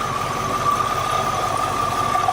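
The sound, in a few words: flood-damaged Cadillac Allante engine idling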